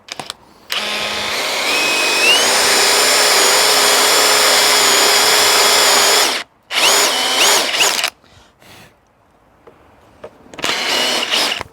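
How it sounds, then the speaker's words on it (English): Power drill driving a Forstner bit into a wooden staircase handrail, a loud continuous whine for several seconds, then shorter bursts separated by brief pauses, heard close up without speech. "I love a Forstner because you can actually see through to the bottom of the cut and get them virtually in the same place."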